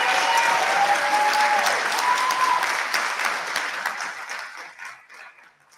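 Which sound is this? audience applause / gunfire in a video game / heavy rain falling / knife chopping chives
audience applause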